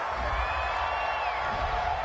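Home crowd noise in the Madden 20 football video game, a steady broadband roar of cheering that holds evenly for about two seconds with no clear breaks.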